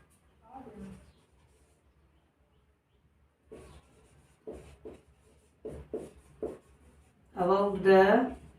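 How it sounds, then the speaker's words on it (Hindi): A pen writing a letter's subject line on paper, short scratchy strokes in bursts with pauses between them, close and fairly clear, ending in a louder stretch of scribbling. "अब मान लो हम पोस्टमैन की कंप्लेन कर रहे हैं, तो सब्जेक्ट लिख देते हैं"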